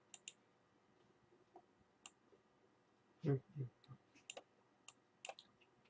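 A computer mouse gives a handful of sharp, isolated clicks spaced irregularly in a quiet room, with a brief murmur of a voice partway through.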